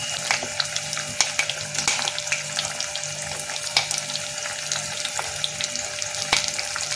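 Fish coated in rice flour and maida, topped with curry leaves, crackles in hot oil: a loud, continuous sizzle full of sharp pops and spits, close up with no voices.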